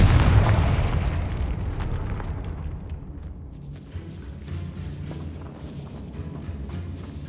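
A Confringo blasting spell explodes in the Hogwarts Legacy video game with a loud, deep boom that rolls out into a long rumbling decay, followed by a lingering, crackling tail.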